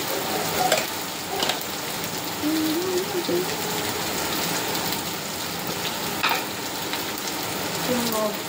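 Onion paste with turmeric and salt fries in a pan, a dense, rain-like sizzle running throughout with occasional scrapes and taps of a stirring utensil, and a faint voice briefly in the background.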